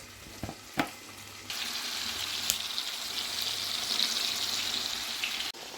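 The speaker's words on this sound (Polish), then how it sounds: "Na rozgrzanym tłuszczu podsmażamy polędwiczki." Steady sizzling of pork tenderloin frying in hot fat, close and continuous, with a couple of sharp clicks and knocks near the start.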